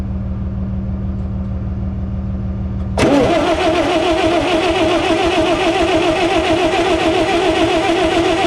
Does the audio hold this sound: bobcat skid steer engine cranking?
yes